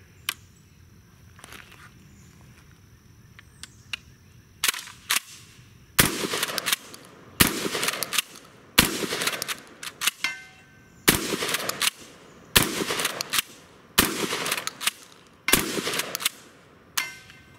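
A KelTec KSG pump shotgun fires a string of about nine loud sharp blasts, each followed by the quick clack of the slide being racked, after a few quieter mechanical clicks at the start.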